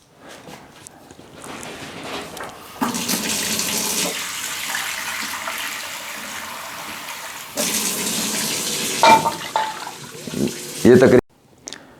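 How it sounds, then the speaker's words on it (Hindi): Water is poured into a pot of rice for making kheer, heard as two sustained gushing pours separated by a pause, close and fairly loud, with a few small clinks near the end. "थोड़ा सा इसमें पानी ऐड करेंगे।"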